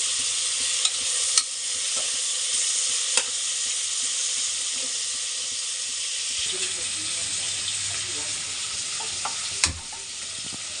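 Egg curry frying in a kadai gives a loud, steady hiss that fills the clip, with a few sharp clicks and a low rumbling shift partway through.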